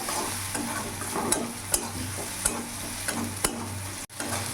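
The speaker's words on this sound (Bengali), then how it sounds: "পেঁয়াজটা কিছুক্ষণ নাড়াচাড়া করে নেবো যাতে কাঁচা ভাব গন্ধটা চলে যায়।" Chopped onions for a rohu fish curry sizzle in hot oil in a pan, with a soft steady fry under repeated scraping stirs about every second and a final sharp knock.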